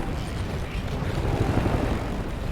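In Battlefield 2042, a helicopter is flung by a tornado amid a loud, continuous roar of wind and rumbling engine noise, dense and chaotic with no clear breaks.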